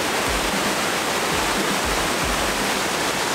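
Gollinger waterfall near Salzburg gives a dense, even roar of falling water, loud and constant throughout, with no voices.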